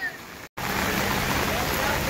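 Heavy downpour in Nainital, a steady loud hiss of rain close by that drops out for a split second and then resumes unbroken.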